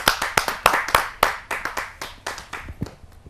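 An audience at a Kavi Sammelan poetry gathering applauds as a poet is welcomed on stage, with brisk, irregular hand clapping from a modest crowd that thins out and grows fainter toward the end.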